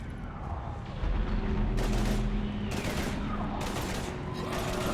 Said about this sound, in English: we're taking heavy fire